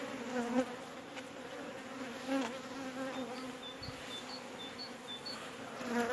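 Dense, continuous buzzing of Balcı breed honeybees around a hive, a steady close drone with individual bees passing nearby.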